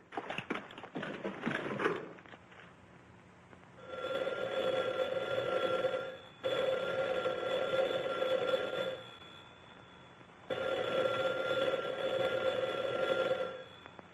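A telephone bell in a 1943 western film rings in three long bursts separated by short pauses, loud and close, after a few seconds of quieter sound.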